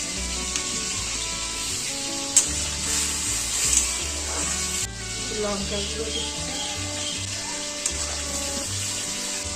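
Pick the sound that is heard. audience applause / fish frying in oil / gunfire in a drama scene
fish frying in oil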